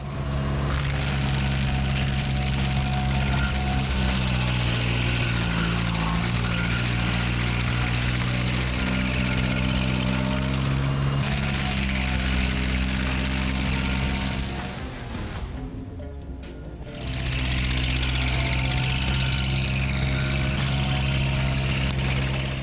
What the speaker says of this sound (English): Thanks to the 2800 SP tree stump grinder, removing tree roots is simpler and more time-saving than ever.